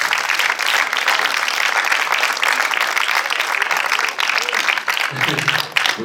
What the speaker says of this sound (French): Voilà, vous pouvez les applaudir, ils sont dernier rang là.